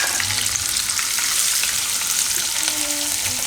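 Peanuts sizzling in hot oil with green chillies and curry leaves over a low gas flame, a steady dense crackle and hiss close up with occasional stirring, no one talking.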